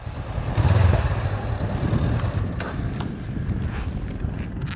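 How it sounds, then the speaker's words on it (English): A Honda CB500X adventure motorbike rolling along a gravel road at about 40 km/h, its low engine drone mixed with steady wind buffeting and rumble from the road surface. "What I am finding with this bike at the sort of 40 kilometer speed along gravelly road is you can just sit down and it bounces along"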